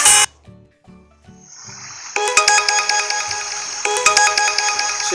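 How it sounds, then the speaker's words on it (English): A WhatsApp message notification tone, the default "Pedal" sound, plays as a phone preview: bright chiming electronic notes in quick clusters, loud and clear with no talking. "for messages, you have your notification tone, which is pedal as a default"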